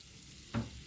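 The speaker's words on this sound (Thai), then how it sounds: "เทไข่ลงไปเลยครับเนี่ยวนๆให้เต็มกระทะ" A quick burst of sizzling as beaten eggs hit a hot oiled pan, rising sharply then settling into a softer fry, close and brief.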